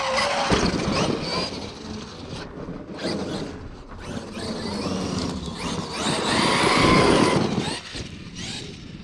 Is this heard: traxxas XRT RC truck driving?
yes